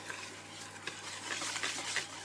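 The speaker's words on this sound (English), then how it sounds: "you can continue to whisk by hand, or you can use a mixer if you'd prefer" Coconut flour brownie batter is whisked by hand in a bowl, a soft continuous scraping and swishing with faint clicks of the whisk, quiet and close.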